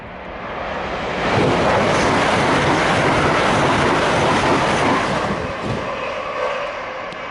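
East Midlands class 158 diesel train at Doncaster station, its rumble and wheel clatter building loudly as it rolls past near the platform, then easing off.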